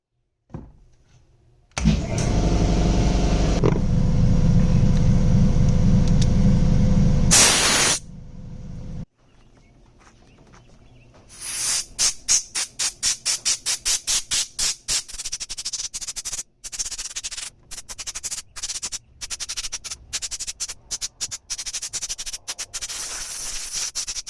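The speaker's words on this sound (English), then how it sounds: "I'm gonna quickly take the air hose, blast that off" An air hose blasts dirt off a dirty carburetor in one loud, close, roaring hiss lasting several seconds, followed later by quieter rapid clicking and bursts of workshop handling.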